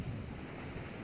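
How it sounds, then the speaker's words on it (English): Atlantic Ocean surf washes onto a New Jersey beach, a steady low wash of waves mixed with gusting wind buffeting the microphone. "That is the Atlantic Ocean."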